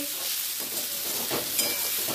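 Potatoes frying in a pan give off a steady, close sizzle with soft stirring scrapes, continuous across the whole stretch with no voices.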